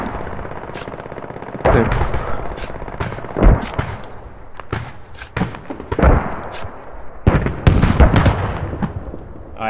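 Rapid bursts of machine gun fire in a video game come in loud, close volleys separated by short pauses, with a brief spoken word among them.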